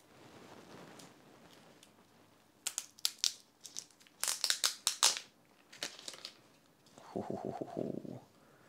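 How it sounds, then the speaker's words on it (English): Packaging for a Godox Lux Master retro camera flash gets unwrapped up close, with bursts of crinkling and rustling paper or plastic between quiet pauses, then a final stretch of rapid crumpling. "Let's put this off to the side and let's unwrap the flash."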